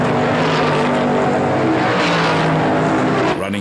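McLaren M20 Can-Am race cars at Watkins Glen in 1972, a loud close engine roar with a low throbbing drone held throughout as the cars pass, fading slightly at the end.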